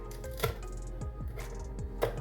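A knife chops a garlic clove and half a chili finely on a board, giving a quiet, steady run of sharp taps about every quarter second, close and with no talk.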